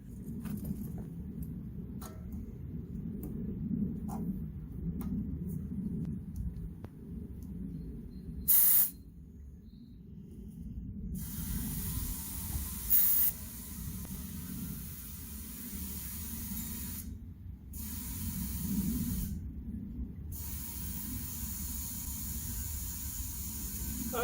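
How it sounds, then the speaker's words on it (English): Compressed air from an air compressor hisses steadily into a tire on a 1969 Charger project, fairly faint and continuous, with the flow cutting off briefly a few times before resuming. "I need to fill the tire on this."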